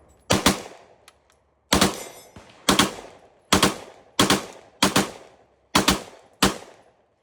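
A firearm fitted with an aftermarket eBay trigger shooting in binary mode at a range: eight loud, sharp bursts at a regular pace, each a quick double shot, with short silent gaps between them.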